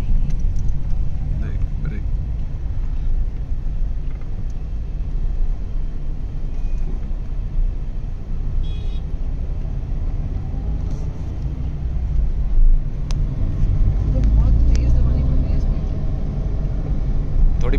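Maruti S-Presso automatic small car with a 1000 cc engine, heard from inside while driving: a steady low engine and road rumble runs throughout, swelling slightly near the end, with faint talk over it.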